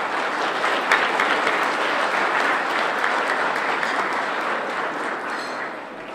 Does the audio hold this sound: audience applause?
yes